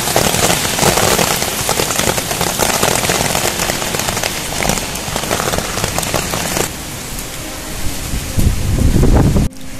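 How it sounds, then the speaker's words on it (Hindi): Dense, loud rain pours continuously in Ranchi, a heavy hiss with crackling patter, easing slightly near the end before a short surge. "बाहर तो पूरी मस्त बारिश हो रही है"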